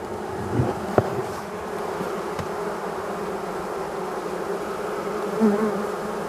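A steady, close buzzing hum of many honeybees on an empty hive frame in late February, constant throughout with a few brief louder passes near the microphone.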